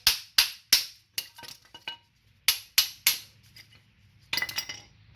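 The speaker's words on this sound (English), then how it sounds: "Maybe a hammer would work a little bit better." A hammer knocks the front brake pads off a Nissan Altima. About a dozen sharp, close metallic whacks land in quick uneven bursts with short pauses between groups, ending in a rapid cluster of lighter taps.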